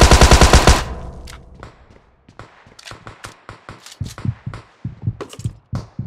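Gunfire from a shotgun in a video game: a loud, rapid burst of shots at the start, followed by a series of quieter, irregular taps and thuds.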